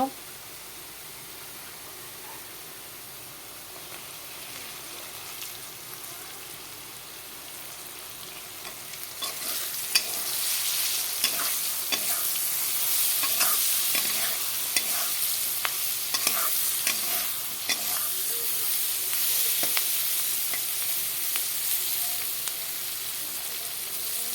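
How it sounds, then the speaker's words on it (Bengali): Potatoes and onions fry in a pan for an egg dish, a soft low sizzle that swells into steady loud crackling and hissing about halfway through, with occasional stirring scrapes and no talk. "এখানে আলু পেঁয়াজ একসাথেই ভেজে নিয়েছি ডিমের জন্য আলু পেঁয়াজ ভাজা হয়ে গেল"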